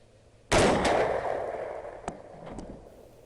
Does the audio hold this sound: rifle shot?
yes